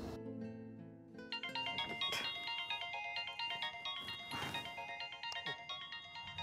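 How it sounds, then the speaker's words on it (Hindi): Mobile phone ringtone for an incoming call, a melodic electronic tune with repeating bright notes and steady rhythm, playing clearly and moderately loud with no talk over it. "It's Lareeb, मैं उसका फ़ोन अटेंड करूँ?"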